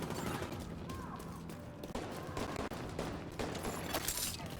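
Rapid automatic turret gunfire in The Division 2 video game, a dense continuous fusillade of shots with mechanical clatter, loud and close throughout a busy combat mix.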